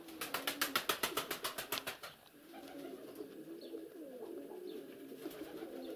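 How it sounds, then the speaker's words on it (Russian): Pigeons coo in a loft. A rapid burst of flapping or clattering comes first, then a soft, continuous murmur of cooing close by. "И с этой стороны тоже голуби."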